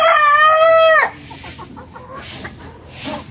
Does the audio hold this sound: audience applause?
no